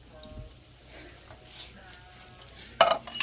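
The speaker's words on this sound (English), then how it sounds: "Then, I'm going to add these diced tomatoes." Diced tomatoes go into a hot pan for lasagna. A faint, low sizzle runs under the quiet, then a sudden loud splattering burst hits near the end as they land.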